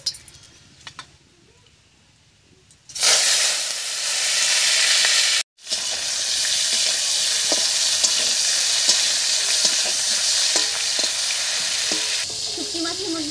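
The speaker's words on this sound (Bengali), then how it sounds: "তেলের মধ্যে দেবো কেটে ধুয়ে রাখা শুটকি মাছ" Cut and washed dried fish drops into hot mustard oil in a wok, setting off a loud, steady sizzle that stops briefly and then resumes, crackling evenly close by.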